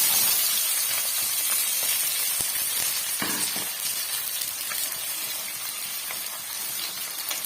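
Halved shallots fry in hot oil in a pan, a steady bright sizzle and hiss that continues without pause, close and fairly loud, with a few soft scraping clicks.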